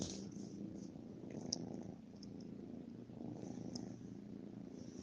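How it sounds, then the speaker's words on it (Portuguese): A pet cat purrs close by, a soft steady rumbling that continues evenly throughout with no talking over it. "Esse barulhinho que vocês estão ouvindo é o meu gatinho que tá aqui comigo."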